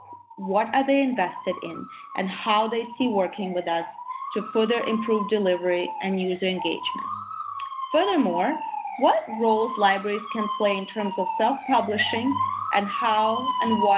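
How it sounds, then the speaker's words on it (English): A fire truck siren passes in the distance, its wailing tone rising and falling repeatedly beneath continuous speech, which carries on throughout. "I do apologize for the siren, there is a fire truck going by"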